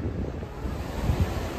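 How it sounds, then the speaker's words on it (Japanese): Ocean waves at the seaside wash steadily beneath heavy wind buffeting on the microphone, a continuous rough rush with no voices. "海目の前だ。"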